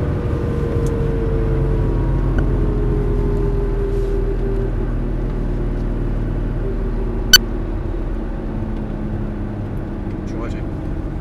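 A Ferrari supercar cruises at low pace on the Hampton Downs race track in Auckland, its engine a steady low rumble with a brief sharp click midway, while people talk inside the car throughout.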